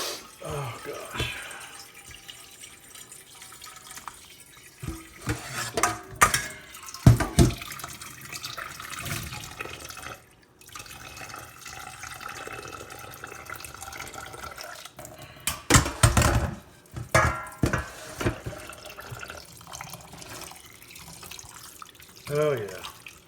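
Water runs from a kitchen tap into a sink while potatoes are drained for potato salad, an uneven splashing rush with bursts and brief pauses.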